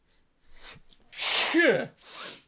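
A single sharp sneeze from a man on a Magic: The Gathering podcast, preceded by a brief inhale and followed by a short breathy trailing sound, close and loud against a quiet room.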